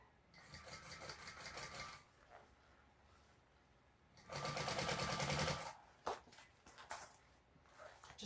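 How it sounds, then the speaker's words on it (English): A sewing machine stitches binding around a fabric bag in two bursts, a steady close whirring run, then a pause and a second loud run, with some handling clicks afterward. "just sew a little bit at a time as I work my way around the binding"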